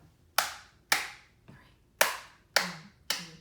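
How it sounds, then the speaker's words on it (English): Hands clapping in a steady beat for a school music lesson song, six sharp claps at roughly half-second intervals, close and clear with no voices. "From the beginning with the claps"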